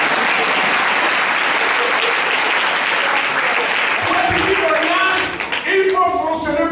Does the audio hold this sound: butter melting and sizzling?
no